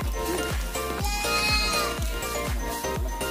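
Crossboer goats bleating repeatedly in a loud, continuous chorus during loading for shipment, with a steady rhythmic thumping underneath, close by.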